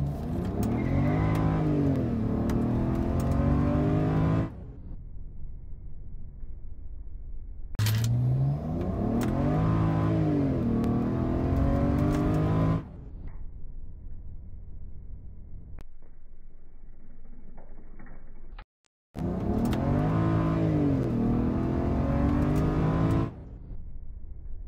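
A BMW 135i with a turbocharged inline six and a misfiring cylinder accelerates hard from a standstill in three separate loud runs, its engine note climbing and dropping through the gear changes, with quiet gaps between the runs.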